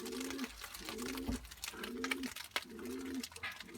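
A male pigeon cooing at the nest inside a coop, four rhythmic low throaty coos repeated at an even pace, close and fairly quiet against faint background noise.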